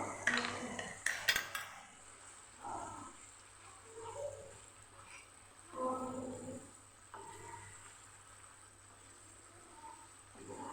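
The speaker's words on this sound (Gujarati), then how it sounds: "અહીંયા હવે આપણે એકદમ મલાઈ મિક્સ કરી" A spoon stirs cream into paneer bhurji gravy in a pan, making soft, intermittent scrapes and light clinks against the metal, quiet and close.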